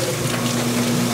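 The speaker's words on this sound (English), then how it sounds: "Look at this water flow." Water gushes from a pump through CPVC pipe, a steady, loud rushing flow with a constant hum underneath, continuous and unbroken throughout with no talk.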